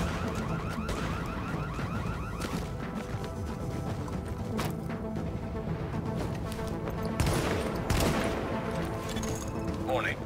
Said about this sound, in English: Oh, they shoot! Oh, they're shooting my people.